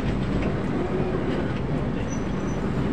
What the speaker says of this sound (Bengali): একদম আমরা পেরোচ্ছি, ডায়মন্ড ক্রসিং পেরোচ্ছি